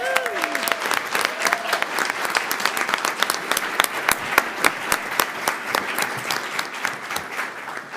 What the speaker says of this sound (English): all-state athletes a round of applause.